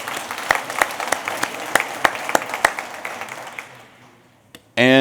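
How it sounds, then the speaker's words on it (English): A lecture audience claps steadily together, sharp rhythmic claps close by and fairly loud, then fading out until the room goes nearly quiet, with a brief voice at the very end. "absolutely, it's worth clapping."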